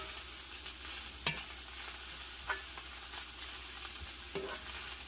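Chayote and ground beef sauté quietly in a pan, a soft continuous sizzle broken by a few sharp clicks of a utensil stirring against the pan.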